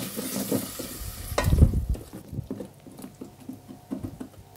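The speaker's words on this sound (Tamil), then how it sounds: "இதை எல்லாத்தையும் சேர்த்துட்டு நல்லா ஒரு 20 செகண்ட்ஸ்க்கு நல்லா வதக்கி விட்டுக்கலாம்" Spices and yogurt for mutton white kurma are sautéed in a pan, with a busy patter of crackling and spattering plus stirring scrapes. The sound is loudest early on, then settles to a lighter sizzle, close up and with no voices.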